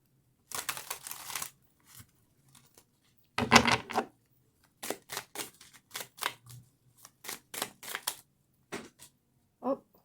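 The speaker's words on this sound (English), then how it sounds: "Just going to shuffle them a couple more times." Tarot cards being shuffled by hand, intermittent close crisp riffles and flicks in short bursts separated by quiet gaps.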